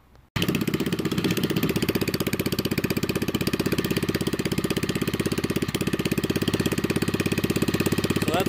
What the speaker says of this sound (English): Let's see what the mini stack sounds like.